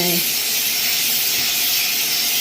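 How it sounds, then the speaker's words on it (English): A steam cleaner hisses steadily and loudly at close range while cleaning and sanitizing tile grout lines in a small guest bathroom, a continuous unbroken jet of steam. "with the steamer, I'm cleaning and sanitizing"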